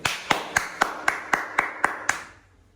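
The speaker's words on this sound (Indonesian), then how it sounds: "Tepuk tangan untuk beliau." Sharp hand claps in a steady, even rhythm, about nine in unison, then a quick fade to quiet.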